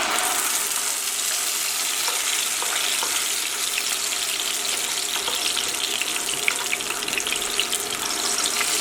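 Tomato puree sautéing in hot oil for rajma curry, a dense, even sizzle close up with faint bubbling crackles, steady throughout and without talking.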